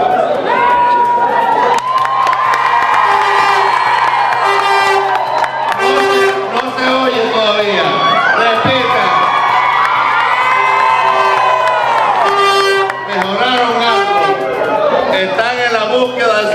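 A loud political rally crowd at a speech by a politician roars with cheering, shouts and whoops, some applause mixed in, voices and chanting dense throughout with a few brief dips.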